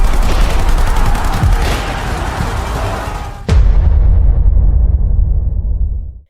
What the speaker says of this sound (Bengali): তাদের থামাতে নিরস্ত্র মিছিলের ওপর নির্বিচারে গুলি চালায় পুলিশ।